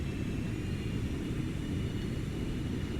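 Simulated engines of a FlyJSim 727-200 airliner play back in a flight-simulator replay, a continuous low jet rumble and roar with a faint high whine that stays steady throughout.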